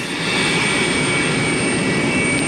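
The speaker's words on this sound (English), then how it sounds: "We believe this is the plane arriving now, if you can hear me." A military plane arrives carrying the remains of an Ohio soldier killed in the Korean War, its steady, loud jet engine roar filling the air continuously with no voices.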